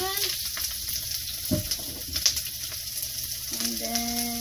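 Onion dropped into hot olive oil in a wok for shrimp chop suey, a bright continuous sizzle with a burst as it hits the oil, plus a few faint clinks and brief sounds of someone in the background.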